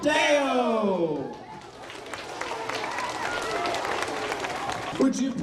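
An audience at a school district music week concert breaks into loud applause and cheering that swells and carries on steadily, mixed with crowd chatter and a voice over the clapping.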